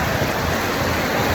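Ocean surf at Udaipur beach near Digha, West Bengal, makes a steady, loud, unbroken roar of waves washing ashore with no voices.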